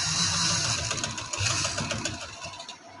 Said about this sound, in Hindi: ये सीढ़ी लेस के साथ साथ हम सिलाई लगा देंगे।